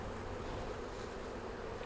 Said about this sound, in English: I can't get over how calm these bees are.